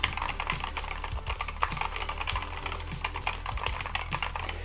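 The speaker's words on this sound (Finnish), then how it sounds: "Eli jos kuunnelkaa ensinnäkin ääntä." Typing on a Corsair K100 RGB gaming keyboard with linear switches, a steady run of soft, fairly quiet keystrokes clattering close up with no talk.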